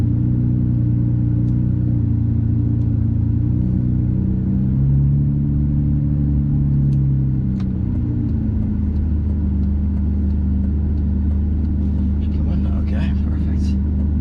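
A Ferrari 599 GTB V12 pulls away under light throttle as the clutch slips and engages, its deep, steady engine drone rising and falling slightly, loud and continuous inside the cabin.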